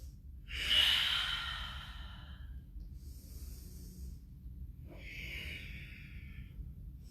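Deep, drawn-out breaths during a yoga session: a loud, airy exhale swells and fades over a couple of seconds, followed after a quiet pause by a second, softer breath, with no talking.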